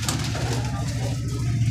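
Pigeons kept for sale coo in a low, throaty, continuous burble, close and fairly loud throughout the short moment, several birds overlapping.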